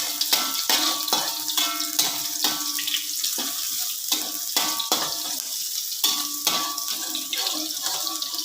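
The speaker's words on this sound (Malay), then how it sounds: "Minyak dah panas, kita masukkan bawang merah, bawang putih ya. Kita tumis sampai kekuningan" Shallots and garlic sizzling in hot oil in a pan while being stirred: a loud, steady crackle close by, punctuated by repeated scraping stir strokes, with no talk.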